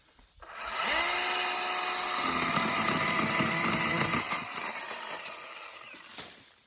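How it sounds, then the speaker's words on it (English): A chainsaw cuts down a small tree outdoors, starting with a rising whine as the engine spins up, then a steady loud buzz under load while biting into the wood, before tapering off near the end. "now we're gonna cut these things down. I've never used a chainsaw before."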